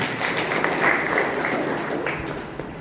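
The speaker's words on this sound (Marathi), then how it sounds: "या सर्व कार्यक्रमाला आपण टाळ्या वाजवून अनुमती द्यावी अशी मी आपल्या सर्वांना विनंती" Dense, steady clapping from an audience at a school parent-teacher association event, sustained at an even level for a few seconds without a clear break.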